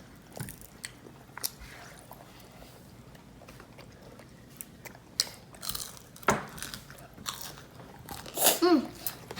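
Honeycomb tripe being bitten and chewed, with scattered crunchy bites and soft wet chewing sounds close to the mic, growing louder toward the end, over faint background noise.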